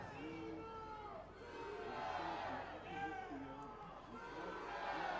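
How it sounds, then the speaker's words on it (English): Oklahoma fans at a college baseball game chant Boomer Sooner, a large crowd roaring in rising and falling waves of voices at a steady, fairly loud level throughout. "And there comes Boomer Sooner once again from the Oklahoma crowd."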